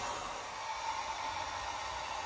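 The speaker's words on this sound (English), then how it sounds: "That's Deb with her hair dryer." A hair dryer whirs in the background, a steady airy hiss and hum that holds constant throughout with no voices.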